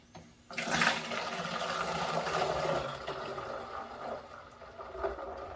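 Film developer solution pours into a container, a loud close rush of liquid that starts abruptly and runs on as a steady gurgling splash before slowly thinning out.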